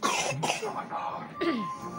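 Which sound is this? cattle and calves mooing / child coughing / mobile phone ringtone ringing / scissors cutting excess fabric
child coughing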